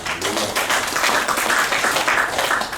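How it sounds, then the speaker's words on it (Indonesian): A church congregation at a GBI worship service applauds, a dense, loud, continuous burst of many hands clapping that fills the whole stretch without pause. "Beri tepuk tangan buat Tuhan."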